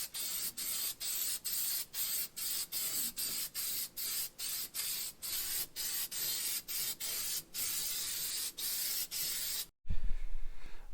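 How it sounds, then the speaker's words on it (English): Spray coating applied to a welded trunk floor patch on a 1969 Chevy Nova, a close hissing spray in rapid repeated bursts for several seconds, then a short pause and a duller thump at the end. "Now we're going to put some spray on this and try to make it look like it wasn't hacked in."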